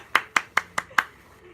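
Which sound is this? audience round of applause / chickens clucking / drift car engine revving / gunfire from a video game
audience round of applause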